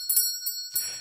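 A bell rung as a 'lefty bell' during a tech talk show, giving a few bright, ringing strikes with sustained metallic tones, close and clear with no talk over it.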